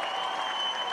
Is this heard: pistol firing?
no